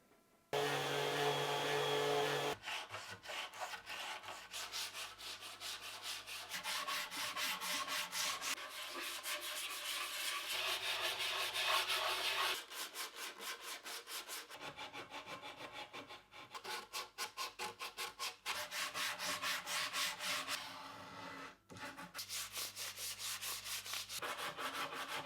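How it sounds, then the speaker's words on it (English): A guitar body is sanded by hand in long rhythmic rubbing strokes, a close, continuous rasping scrape broken by a few brief pauses, with no talking. "now it's time for Stefan's favorite pastime, sanding."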